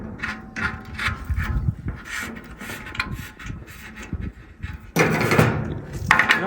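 A hand ratchet clicks in quick, uneven bursts while tightening a fitting on a soft aluminum radiator for a 2003–2007 Ford Powerstroke 6.0L, close up, with a louder stretch of clicking toward the end.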